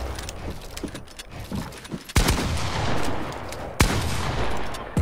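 Fortnite gunfire during console play, a few sharp loud shots cracking out amid busy game noise and rustling, two prominent bursts standing out over the background.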